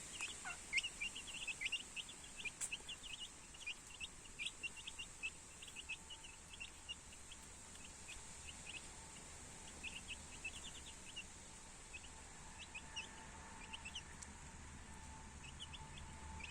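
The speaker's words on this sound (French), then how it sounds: "Je pourrais regarder des heures ce petit manège de poussins." Baby chicks with their mother hen, a flock of chicks peeping in quick, high, overlapping chirps that run steadily throughout, soft and a little distant over a constant background hiss.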